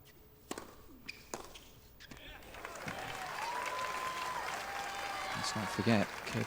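A stadium court tennis crowd cheers and applauds Serena Williams during her match against Angelique Kerber, the applause swelling into a sustained roar after a few scattered claps and bounces.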